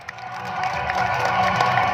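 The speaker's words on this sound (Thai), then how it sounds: "ขอเสียงปรบมือดังๆครับ" A crowd at a local sports event in Khok Muang, Songkhla, Thailand, claps and cheers in a sustained, moderately loud wash of noise that swells slightly as it goes on.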